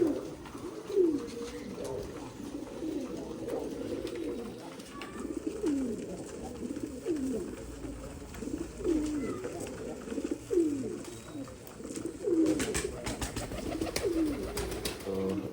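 Pigeons coo in a loft, their soft repeated coos coming at a steady rhythm close by, with faint rustling and a little talk in the background.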